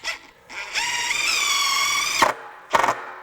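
A cordless impact driver, DeWalt Atomic 20V DCF850 or Milwaukee Fuel 2853-20, whirs in short bursts: a quick blip, a sustained high whine for about a second and a half, then another brief burst.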